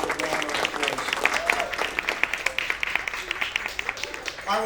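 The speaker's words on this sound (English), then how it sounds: "And again, give everyone involved a round of applause." An Opera House audience on an opening night breaks into applause, dense overlapping clapping from a large crowd that rises and stays strong before starting to thin out near the end.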